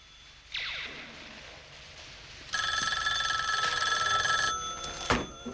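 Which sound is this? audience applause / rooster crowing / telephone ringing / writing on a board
telephone ringing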